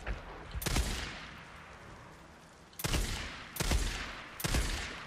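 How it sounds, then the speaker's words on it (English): Four loud sniper rifle shots in the Days Gone video game, each a sharp crack with a long rolling echo, the first alone and the last three in quicker succession, with no talk over them. "let me get my sniper rifle out"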